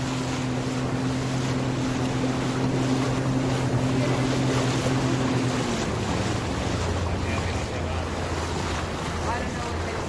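A boat motor drones steadily on open water, holding a steady pitch before dropping lower partway through, over constant wind and surf noise with no talk.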